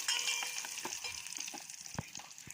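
Curry leaves and tempering spices sizzle and crackle in a hot pan, a quiet hissing fry with scattered sharp pops and a brief stirring clink.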